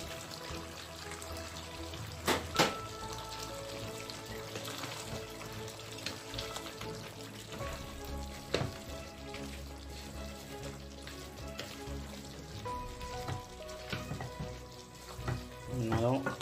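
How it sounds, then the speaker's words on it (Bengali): Chopped onions with green and red peppers sauté in a hot pan, giving a steady close sizzle and crackle with a few louder stirring knocks and scrapes, no talking. "আমার পেঁয়াজটাকে আর গ্রিন পেপার রেড পেপার এইগুলারে কষাইব কিছু সময়।"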